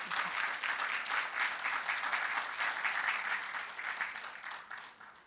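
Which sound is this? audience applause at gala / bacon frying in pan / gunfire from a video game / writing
audience applause at gala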